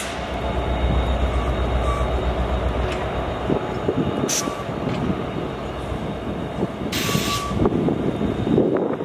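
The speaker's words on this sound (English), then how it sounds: "I'll let you watch the train." A train on the Lackawanna Cut-Off passing nearby, a loud, steady rumble of wheels on rails holding for several seconds with faint high squeals and rattles on top.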